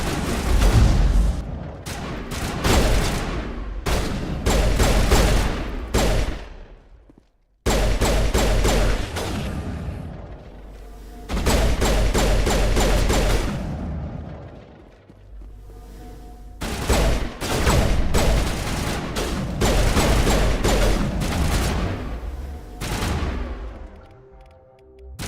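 Shotgun gunfire in Mass Effect, loud booming blasts fired in rapid clusters, each group a string of sharp bangs separated by brief pauses, with combat noise filling the gaps and no talking over it.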